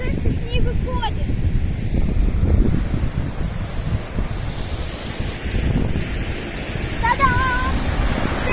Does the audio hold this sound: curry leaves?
no